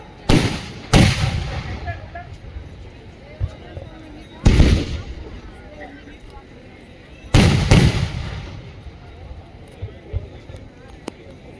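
Loud firecrackers burst nearby in a few separate volleys, each a sharp bang trailing into crackling, with quieter gaps and voices between.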